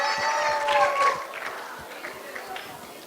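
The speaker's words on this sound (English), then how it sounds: "Louder, give her a loud clap." Clapping from an audience at a school assembly for a Deep Yoga performer, loud at first and then thinning into scattered claps, with crowd murmur and some voices underneath.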